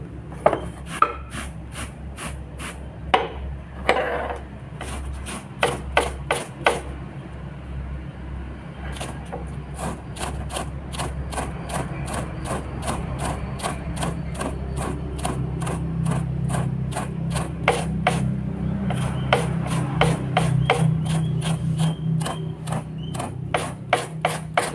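A kitchen grater used as a rasp scrapes wood in steady, quick rhythmic strokes, near and fairly quiet, during work on an old Honda Vega motorcycle seat, with little or no talking.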